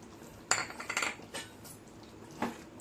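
A utensil scrapes and clinks against a pan while chicken do pyaza, just sprinkled with garam masala, is stirred, giving a few soft, close, irregular taps.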